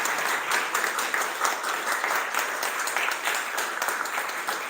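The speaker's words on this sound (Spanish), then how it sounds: "pido un fuerte aplauso porque han hecho un esfuerzo para estar esta noche acá" Audience applauding at the close of a literary evening, a dense, steady wash of many hands clapping that holds evenly for the whole stretch with no voices over it.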